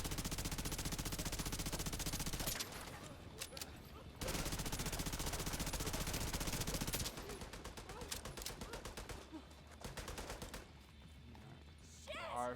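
A rolling turret in The Division 2 fires long, sustained automatic bursts, loud and dense, broken by short pauses and mixed with other gunfire and game noise.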